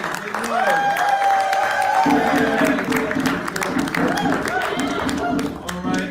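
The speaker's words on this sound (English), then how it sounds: "Everybody applaud now." Audience applause and crowd noise at a Kwanzaa celebration, a steady wash of clapping that carries on beneath music and a speaking voice.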